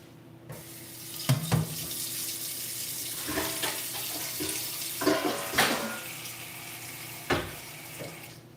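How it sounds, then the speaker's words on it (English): Tap water runs into a steamer pot in a home kitchen, a steady rushing hiss broken by several clanks and knocks of the pot and metal. "I should set some water up in a steamer situation."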